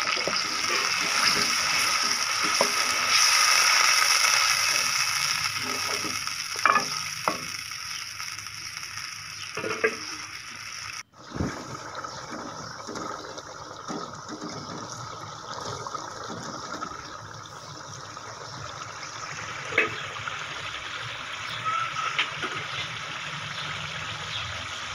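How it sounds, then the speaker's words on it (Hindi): Water gushes and splashes steadily into a pan of beetroot and potato curry with tomatoes, a continuous close pour that fades into quieter sizzling and stirring. "अब इसमें थोड़ा पानी ऐड करें"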